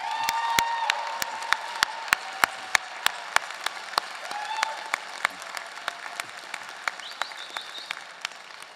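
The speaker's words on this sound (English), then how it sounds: "it really deserves another round of applause." Applause rings through a hall at a law school convocation, a soft wash of clapping overlaid by sharp, close individual claps at a steady rhythm, with faint voices mixed in.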